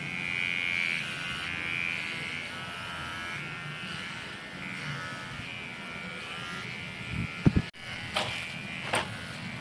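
An electric razor buzzes steadily while clipping a dog's fur during home grooming. The faint, close whine runs throughout, with a few brief knocks and handling noises near the end and no speech.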